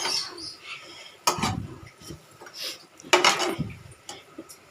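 A spoon scrapes and clanks against a pot as gongura leaves are stirred while cooking, two or three louder strokes standing out over a low bubbling background.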